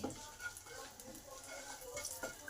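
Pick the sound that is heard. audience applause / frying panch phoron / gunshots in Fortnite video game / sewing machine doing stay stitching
frying panch phoron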